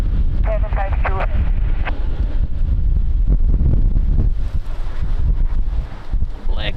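Strong gusting wind at Lisbon Airport roars and buffets the microphone in a loud, continuous rumble that swells and eases, with voices faintly underneath.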